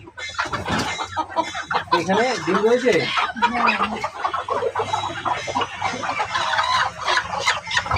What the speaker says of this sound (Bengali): বাসার ছাদের পরে এই যে খামারটা করছেন এবং দেখতেছি যে খুব চমৎকারভাবে বিভিন্ন ভাগে বিভক্ত করে এই যে মুরগি রাখছেন